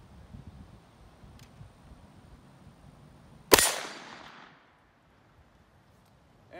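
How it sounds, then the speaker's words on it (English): A single loud, sharp gunshot from a 9mm MP40 clone at an outdoor shooting range cracks out and rings off briefly into quiet, preceded by faint handling noise. "let's take a couple shots and we'll do a little bit more talking in a minute"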